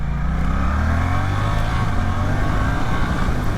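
A Suzuki GSX-8S motorcycle accelerates hard along a twisty road, its engine note rising in a loud, steady, continuous drone with climbing harmonics and rushing wind, no voices.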